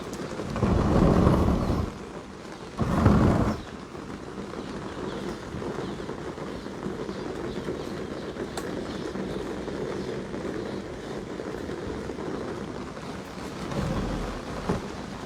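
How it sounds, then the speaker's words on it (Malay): Heavy rain pours down steadily in a dense hiss while two loud, close rumbles of thunder roll through early on, and a fainter rumble returns near the end. "kerana hujan lebat turun"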